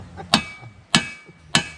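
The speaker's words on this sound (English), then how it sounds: "Heaven help with a crooked hammer" Three sharp metallic strikes, evenly spaced and close, as a crooked hammer hits an engine part on a 1961 Pontiac Laurentian with a 350 four-speed, each blow ringing briefly.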